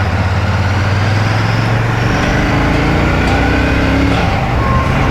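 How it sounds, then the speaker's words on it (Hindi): A Royal Enfield Shotgun 650 motorcycle engine accelerates on a slight slope, a loud, close, continuous exhaust drone whose pitch shifts upward as it revs, with no talking. "भाई जो साउंड है ना वो अल्टीमेट है बाइक का"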